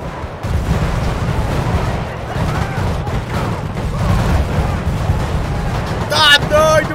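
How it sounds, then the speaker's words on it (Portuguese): Dense gunfire rattles through a gang shootout at a fortress in the video game GTA V, loud and continuous bursts overlapping with a deep rumble, a brief voice near the end. "que tiroteio é esse?"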